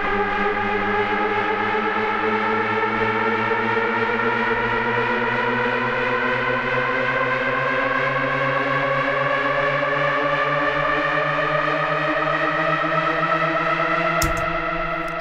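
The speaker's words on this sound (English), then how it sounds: "this is a pitch riser. And we'll have a quick listen to what that sounds like." A synthesizer pitch riser made in Ableton Live sweeps steadily upward for about fifteen seconds, a loud, dense, buzzing tone with stacked harmonics climbing together, ending with a brief click.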